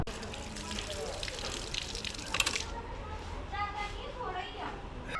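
Water gushes steadily from a tap on a drinking-water cooler at Chandigarh's Rock Garden. The flow is fairly faint, with voices and outdoor background noise mixed in.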